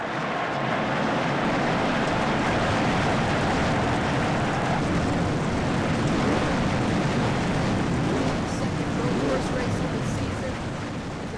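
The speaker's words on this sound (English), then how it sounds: "Drivers, start your engine." Race car engines in a Cup Series stock car racing video game at the Trois-Rivières circuit start together into a steady, loud, dense roar that holds for the whole stretch.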